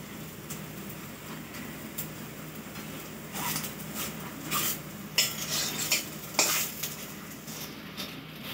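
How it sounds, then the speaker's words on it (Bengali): Gola ruti egg pancakes frying in a pan, a soft continuous sizzle under scattered sharp clinks and scrapes of a utensil against the pan, growing busier toward the end, no talking. "এরকম লাল লাল করে গোলা রুটিগুলো ভাজবেন।"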